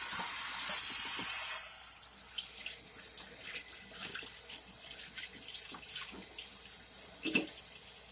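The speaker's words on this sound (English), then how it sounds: "let me wash my hands" A kitchen tap runs loudly as hands are washed free of biscuit dough, a steady rush for under two seconds before it shuts off, leaving faint clinks and soft handling noises.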